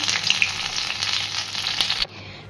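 Pointed gourd pieces frying in mustard oil give a loud, dense, steady sizzle with crackling spits, which cuts off abruptly near the end, leaving a faint quiet hiss.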